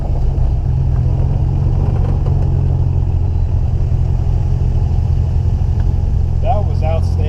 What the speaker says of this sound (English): I like the sound of your exhaust